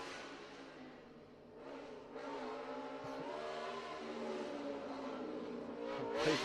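A Formula Student race car drives an autocross course, its high-pitched engine note rising and falling as it accelerates and shifts, moderately loud and heard from a distance with no talk.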